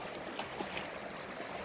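A creek flows in a steady, noisy wash with faint trickles and gurgles mixed in, continuous and close, with no voices.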